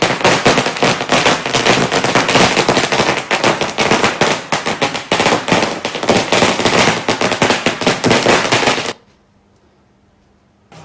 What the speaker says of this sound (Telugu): హనుమాన్ టెంపుల్ వద్ద టపాసులు పేల్చి